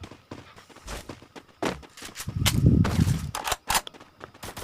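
Gunfire in the mobile battle game Free Fire, a series of sharp, close shots in irregular bursts with a heavier rumbling stretch in the middle, with no talking.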